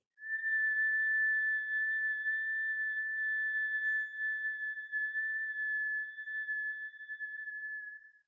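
Steady single-pitch whistle held for about eight seconds during a kundalini yoga session, clear and sustained with slight wavering near the end, alone without talk.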